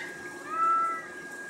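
A single drawn-out cat meow, rising and falling, close and clear against a quiet indoor background.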